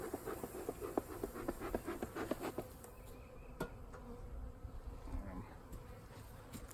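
Honeybees buzz in a soft, continuous hum with scattered clicks and taps, faint and close by.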